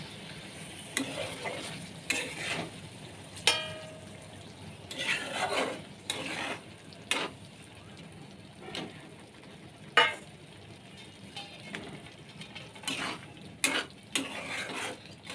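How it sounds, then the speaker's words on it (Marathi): Chicken liver cooking in a pan on low heat after a splash of water is added, with soft sizzling under repeated metal stirring and scraping strokes at close range, no voices. "तर इथे कलेजी शिजण्यासाठी ठेवू"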